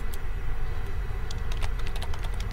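Someone types on a computer keyboard, a quick run of close, distinct key clicks with no talking.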